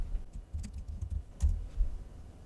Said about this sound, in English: So I'm going to type npm install.